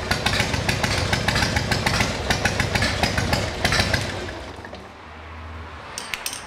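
A Harley-Davidson engine with a CV carburetor runs close by, its rhythmic pulsing chug steady at first, then dropping off and settling to a quieter idle.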